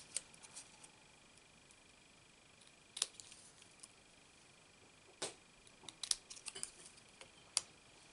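Scissors trimming paper for a stamped penguin greeting card: a handful of crisp, separate snips and clicks, close but quiet, with pauses between cuts.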